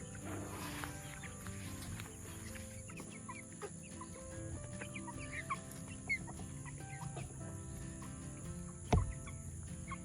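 A broody hen and other chickens cluck softly inside a coop during barnyard chores, with scattered calls over a steady low hum and one brief louder knock near the end.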